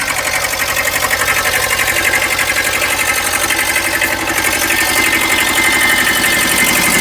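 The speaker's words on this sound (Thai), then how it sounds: "เบิ้งเครื่องกันพี่น้อง" A Kubota B7000 farm tractor fitted with a rotary tiller, its small diesel engine running loud and close with a steady rapid knocking chug that rises slightly as it is revved.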